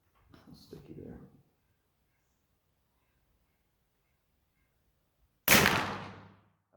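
A CZ600 rifle fires a subsonic 255-grain 7.62x39 round, heard as a single loud sharp report with a decaying tail after a stretch of quiet, preceded by a brief muffled earlier burst.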